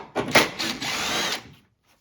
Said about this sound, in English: Remove the 10mm head bolt